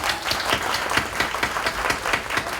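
Steady, dense clapping from an audience at a stage performance of someone singing for friends, sustained and fairly close, with individual claps audible throughout and no talking.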